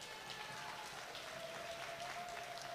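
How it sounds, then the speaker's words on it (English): An audience at an awards show applauds in a steady, dense patter of many hands. It sounds distant and faint, with a soft voice underneath. "give ourselves a round of applause, please."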